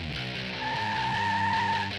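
A suspect's car skids on the road during a police chase, tires squealing in a sustained, fairly loud screech over the rumble of the engine as it reverses.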